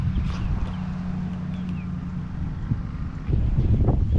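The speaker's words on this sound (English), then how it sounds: "It's super windy here." Strong wind blowing on open water during an on-water test of an Old Town Sportsman Autopilot 120 motorized kayak, a steady low buffeting rumble across the microphone that swells louder near the end, with no talking.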